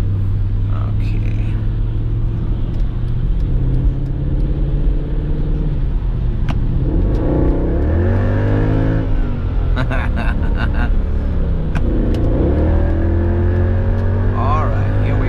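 A Mercedes-AMG car engine drones steadily from inside the cabin on the Autobahn, its pitch rising and dropping through gear changes as it accelerates, with road rumble throughout.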